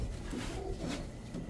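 A male silver pankhi Giribaz pigeon coos in soft, low, repeated phrases close by, faint over a steady background hum with no talking.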